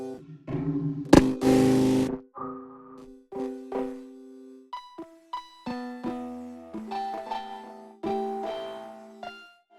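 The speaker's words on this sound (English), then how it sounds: "It's going to give you the distortion that you want, saturation." The Dawesome Hate distortion and saturation plugin from Tracktion turns a sequence of synth notes gritty and buzzing. Short distorted phrases start and stop in a clear, close rhythm.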